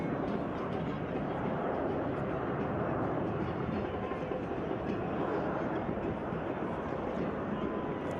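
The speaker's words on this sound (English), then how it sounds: "Hear the planes just to our camera position right." Airplanes flying near the Sky Harbor Airport runway in Phoenix, beside a soccer stadium during a match, make a steady, loud, continuous roar that fills the whole stretch without a break.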